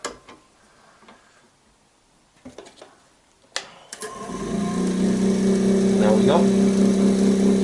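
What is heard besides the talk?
woodworking lathe switched on and running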